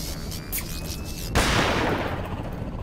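Gunfire in the Rail Theory demo video game, a sudden loud burst of shots that rings out and decays into a lingering rumble after quieter ambient tones.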